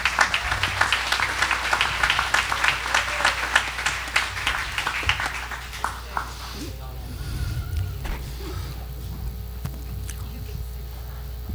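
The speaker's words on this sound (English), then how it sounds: "Guys, why don't you give our youth department a hand clap as they come up?" A church congregation claps for a youth group coming up front, with steady, dense applause for about six seconds that then dies away into quiet room noise and faint movement.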